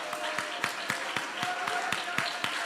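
A worship congregation claps in steady unison, sharp regular hand claps roughly every quarter second, fairly close, carried over a continuous background of voices and music.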